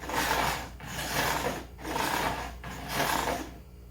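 A file rasps along the fret ends on the side of a guitar neck, four even back-and-forth strokes with short gaps between them, close and fairly loud.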